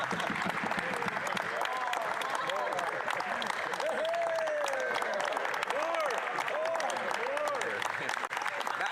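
A legislative chamber audience claps in sustained applause, dense and steady for several seconds with a crowd murmur beneath and faint voices mixed in.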